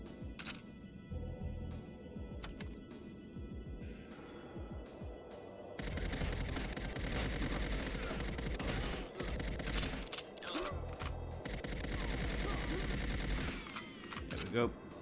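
Gunfire fills a session of the Goldeneye video game on Xbox, with repeated rapid bursts and single shots crackling over a busy mix of game effects. The firing intensifies into a dense, sustained volley partway through.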